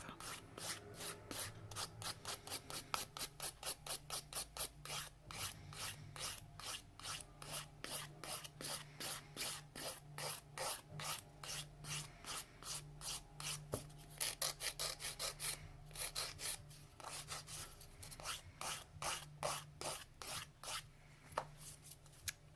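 A fingernail is filed and shaped with rapid, steady back-and-forth rasping strokes, close and continuous for a long stretch, with no speech.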